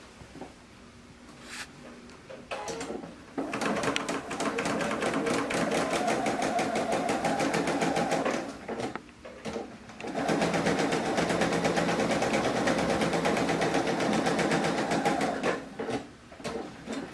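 A sewing machine stitches quilt block rows in long, rapid, even bursts of needle clatter, close up, pausing briefly between runs, with no one speaking.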